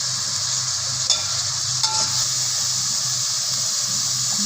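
Natal sea fish frying in a pan with salt, a steady loud sizzle with a couple of sharp scrapes as it is stirred.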